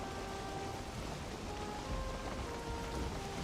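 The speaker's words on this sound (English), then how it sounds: "Oh shoot, it's raining." Rain falls steadily in the game Valheim, a dense, even hiss of drops across the whole stretch with faint tonal hums running underneath and no voices over it.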